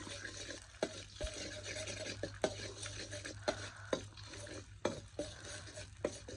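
Spicy fresh shrimp rice noodle salad is stirred and pounded in a mortar, giving sharp, irregular knocks and scrapes about every half second over a steady low hum.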